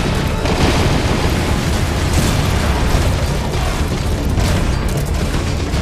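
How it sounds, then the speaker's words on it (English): Hover rockets launch in a Metal Gear Solid battle against Sahelanthropus on extreme difficulty, a loud, dense rumbling roar of blasts and bursts that fills the whole stretch without pause. "the rockets just went up in the air now"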